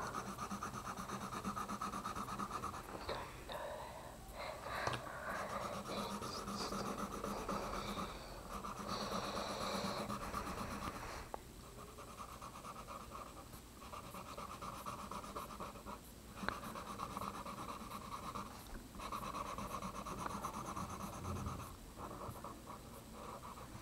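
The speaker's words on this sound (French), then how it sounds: "il faudra dessiner toute la tête en jaune" Felt-tip marker rubbed steadily back and forth on paper, filling in an emoji's whole head in yellow by hand; a continuous close scratchy rasp with brief pauses between strokes.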